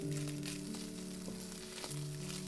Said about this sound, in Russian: И пока жарится фарш, я мелко нарезаю лук.